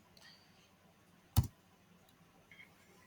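A single sharp computer mouse click stands out in a quiet room, followed by a couple of fainter ticks and soft background noise.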